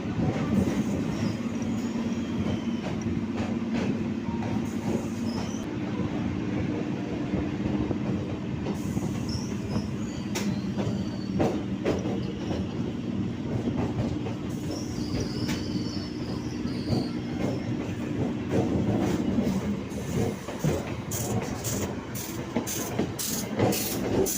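A local train runs near New Alipore station, its wheels grinding and clattering in a steady loud rumble, with squealing tones drawn out along the rails and a rapid ticking of rail joints toward the end.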